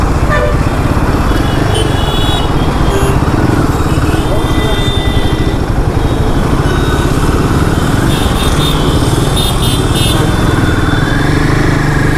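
A new 2025 Royal Enfield Himalayan 450 motorcycle rides through traffic, its engine a steady close rumble that carries throughout, with car horns honking at intervals around it.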